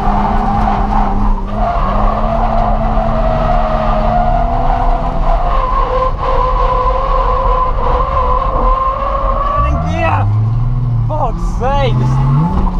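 Nissan 350Z drifting at Santa Pod with a troublesome third gear: a loud, sustained engine drone that shifts pitch as it works through the gearbox, ending in tire squeal and rising revs, with no talk over it.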